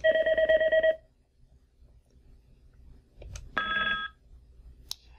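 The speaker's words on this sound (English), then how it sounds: "So that's what that particular ringtone would sound like." A Cisco IP office phone plays ringtone previews: a short electronic tone burst, a quiet pause with faint clicks, then a second brief ringing tone and a click, close and clear without speech.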